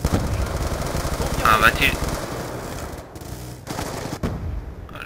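An automated turret fires in Call of Duty Black Ops 2 multiplayer, a loud sustained rattle of rapid gunfire with brief cutouts, while a player talks over it.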